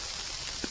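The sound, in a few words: rain falling on a wet day on the trail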